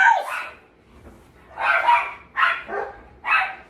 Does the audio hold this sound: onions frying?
no